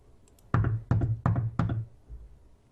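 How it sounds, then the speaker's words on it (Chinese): Four firm knocks on a wooden door in a quick, evenly spaced sequence, close and clear with a short thud to each hit, followed by a faint softer tap and quiet room tone. "这个是敲门的声音，"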